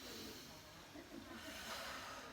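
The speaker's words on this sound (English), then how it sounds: "so that's Pilates breath" Forceful hissing breaths from a Pilates breathing exercise, a continuous close rush of exhaled air at moderate level, with no clear talk.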